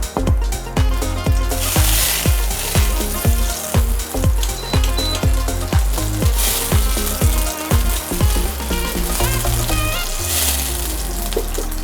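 Potatoes crisp in a pan of butter and oil, a steady sizzle running beneath loud rhythmic background music with a regular beat throughout.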